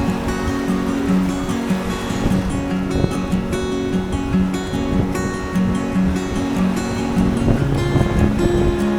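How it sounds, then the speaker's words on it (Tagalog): Wind blows at a hilltop seaside viewpoint in Batangas, a steady rushing roar across the microphone under tonal music playing throughout. "Hangin dito."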